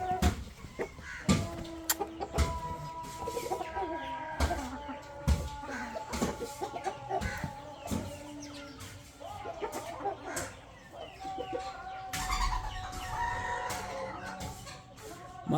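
A rooster crows on a farm, with long drawn-out calls among clucking fowl and scattered knocks and rustles, fairly faint and somewhat distant, with occasional talk.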